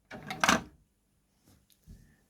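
The sliding drawer of a Nakamichi RX-202 cassette tape deck opens with a close, quick mechanical slide and clunk, followed by two softer clicks after a pause.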